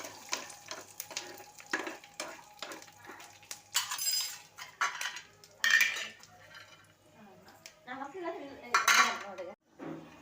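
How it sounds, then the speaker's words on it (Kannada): Peanuts, cumin and curry leaves frying in oil in a pan, with loud close clatter of a utensil scraping and knocking the metal, sharp irregular clinks over a faint sizzle. "ಕರಿಬೇವು, ಜೀರಿಗೆ, ಶೇಂಗಾ ಬೀಜ ಹಾಕಿ ಈ ಥರ ಚೆನ್ನಾಗಿ ಫ್ರೈ ಮಾಡಬೇಕು"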